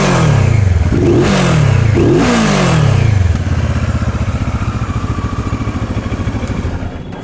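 A CFMoto 650-series motorcycle fitted with an AMW aftermarket exhaust revs loudly up close, with three sharp throttle blips rising and falling before settling into a steady, throbbing idle.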